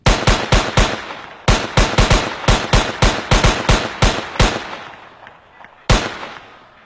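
Gunshots ring out in loud, sharp bursts, several quick shots in rapid clusters with brief gaps, then a pause before one final blast, with no talking over them.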